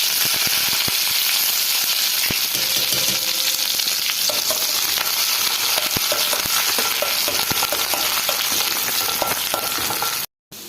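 Curry leaves frying with mustard seeds in hot coconut oil for rasam: a loud, continuous close-up sizzle with scattered crackles and stirring, running steadily until it cuts off abruptly near the end.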